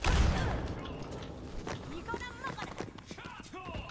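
Footsteps in a video game, a hero shooter with pulse bombs, sound as a rapid clattering patter, tagged as hoof-like clip-clop, under loud player chatter and game effects.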